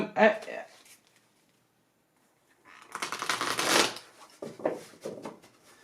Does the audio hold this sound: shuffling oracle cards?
yes